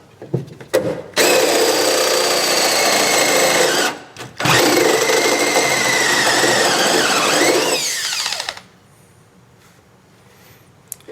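A power drill with a dull bit and nearly dead batteries whines loudly and continuously, pausing once briefly, with a strained squealing tone as it bites, then winds down to quiet.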